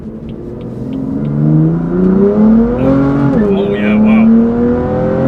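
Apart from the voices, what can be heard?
BMW M4 GTS with stage 2 tune accelerating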